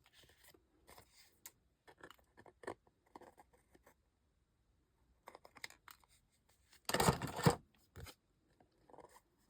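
Scissors trimming the ends of a paper Christmas card, a series of short, quiet snips and paper rustles with one louder crisp cutting burst near the end.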